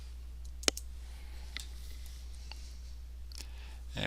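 A computer mouse gives a few isolated, crisp clicks spaced irregularly over a quiet background with a low steady hum.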